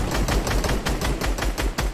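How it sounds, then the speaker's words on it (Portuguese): Rapid bursts of video game gunfire, a quick rhythmic string of sharp shots fired close by with no voices. "Dá um tiro"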